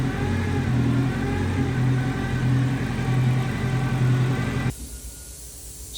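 A K24 engine in a rear-wheel-drive build fires up for the first time and runs loud and close with a rough, pulsing idle. It cuts out abruptly after about five seconds.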